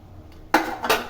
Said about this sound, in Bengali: এবার আমি ঢাকনাটা খুলছি।